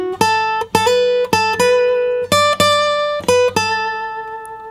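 A short acoustic guitar lick from a song rings out alone, with about eight distinct plucked notes in a slow, even run, bright and close.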